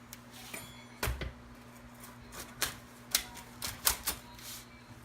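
A crispy eggplant, ricotta and sausage pizza being cut: a series of sharp, crunchy crackles and snaps spaced irregularly, close and fairly quiet, with no speech.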